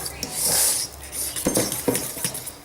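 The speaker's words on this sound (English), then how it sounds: "just use your fork to flatten any of those lumps" A fork mashing lumps in pancake batter made of egg yolk, milk, flour and baking powder: soft, wet scraping and light clinks against the bowl in short uneven strokes, close up.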